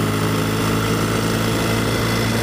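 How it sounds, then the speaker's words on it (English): A 1964 Royal Enfield Interceptor Mk1 motorcycle engine runs steadily at a constant pace, a dense, loud, even drone with no voices over it. "give you all a taste of what it's like to ride this vintage Royal Enfield Interceptor"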